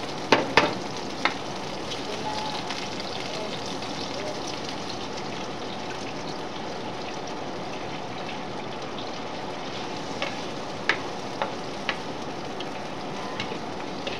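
Soy sauce sizzles and fries in a pan while chopsuey is cooked, a steady broadband hiss with a few sharp clinks of utensils near the start and later, with no talk.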